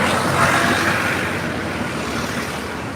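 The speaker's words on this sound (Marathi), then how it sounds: "पहा एन एच फोरचे ट्रॅफिक" Continuous road traffic on the NH4 highway, a steady broadband rumble of passing cars and motor vehicles with a slight swell early on, heard alone without voices.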